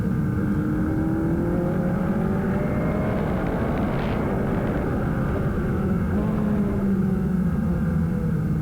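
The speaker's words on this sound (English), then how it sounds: "Rodrigo Gutierrez flashes by the line" A Formula Regional Americas single-seater race car at New Jersey Motorsports Park, its engine a sustained loud, steady drone as it passes the line on track, with no commentary audible.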